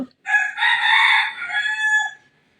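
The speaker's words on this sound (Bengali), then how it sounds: "পাশের বাড়ির একটা খামার আছে মুরগির সেইটার শব্দে কিন্তু আমার ভিডিওটা ডিস্টার্ব করতেছে" A rooster from a neighbouring poultry farm crows once, loud and close, a single drawn-out cock-a-doodle-doo lasting about two seconds against otherwise quiet surroundings.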